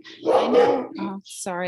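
A dog barks loudly and close by in a quick burst of harsh yaps, with a person speaking over and between the barks.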